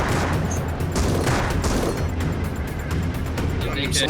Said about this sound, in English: Oh my god, we just got rocketed.